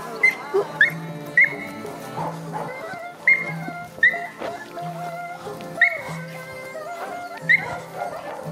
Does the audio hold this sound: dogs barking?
yes